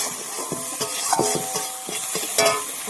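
Curry with potatoes is sautéed and stirred in a pan, giving a close sizzle with a string of scraping, knocking spatula strokes. Faint tonal ringing runs underneath.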